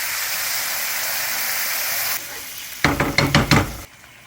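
Chipotle sauce hits a hot oiled pan with garlic. A steady sizzle cuts off, then after a pause a burst of loud knocks and splattering sizzle sounds before stopping.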